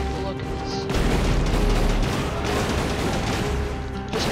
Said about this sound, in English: Obliterating him with the crusher and magic missiles